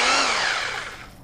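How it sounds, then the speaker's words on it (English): A Bauer 20 volt cordless hammer drill runs in hammer-only mode with the chuck not spinning, giving a loud, steady rattling buzz close by that fades slightly over about a second. "It doesn't spin, takes it out of gear, but it'll let it hammer."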